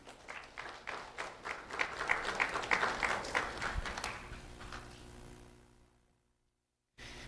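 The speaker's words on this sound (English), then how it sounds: "Let's have a round of applause for Peter Sherd." An audience at a sheriff's office recognition event for local students applauds steadily for about six seconds, building to a dense peak and then tapering off into silence.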